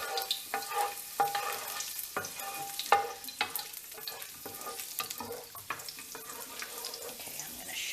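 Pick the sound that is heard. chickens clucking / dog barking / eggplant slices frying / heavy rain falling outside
eggplant slices frying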